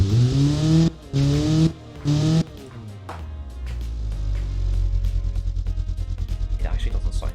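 A cheap Chinese-copy MX-5-style convertible with a 46-horsepower engine revs in a driving game, opening with three short loud bursts, then climbing into a sustained, pulsing high-rev drone with a faint tire squeal.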